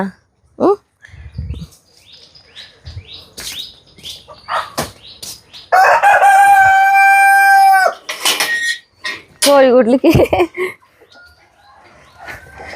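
Chickens cluck and chirp near a coop, and a rooster lets out a long, loud crow midway, followed by another shorter call; a person talks intermittently between the bird sounds.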